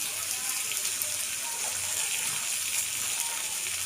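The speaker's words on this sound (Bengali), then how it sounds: "সামান্য জল দিয়ে যাচ্ছে জল দিয়ে ভালো করে কষানো হয়ে গেছে এবার জল দিয়ে দেওয়া হলো" Water is poured into a simmering curry of live tengra fish with brinjal. A steady gushing pour runs the whole time, close and fairly loud.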